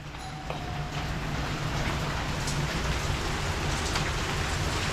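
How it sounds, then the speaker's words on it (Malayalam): Heavy rain pours down at a resort in Wayanad, a dense, loud, unbroken roar of drops with a low rumble beneath it throughout. "നല്ല മഴയാണ്"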